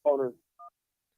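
Telephone keypad tones ring out for a radio call-in line: a longer burst of quick dialing tones, a short pause, then one clean single tone, alone in silence.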